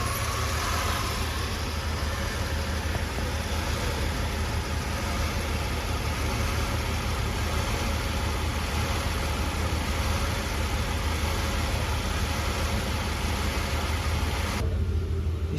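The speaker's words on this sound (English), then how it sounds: "When we ground the coil, you are going to see cylinder 1 and 4 start to misfire." Car engine running with the ignition coil grounded so cylinders 1 and 4 misfire, a continuous mid-pitched idle drone with a faint hiss, steady and close throughout, cutting slightly thinner near the end.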